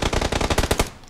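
Rapid automatic gunfire in the PUBG (PlayerUnknown's Battlegrounds) video game: about ten loud, sharp shots in a steady burst, close and alone, then a short tail.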